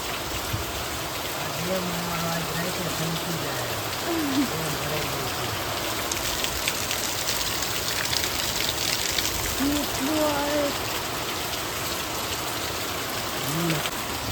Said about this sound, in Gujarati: ધોધમાર વરસાદ ચાલુ છે